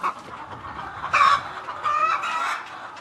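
Chickens on a Senegalese poultry farm cluck and squawk close by, with two louder bursts of calls standing out over a quieter background of bird chatter.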